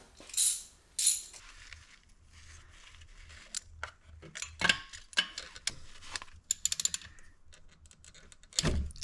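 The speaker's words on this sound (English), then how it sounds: "let's try and get these first 3 manifold bolts off" Ratchet working on the intake manifold bolts of a Jetta TDI, scattered sharp clicks and ticks in short irregular runs with quiet gaps, close and fairly faint.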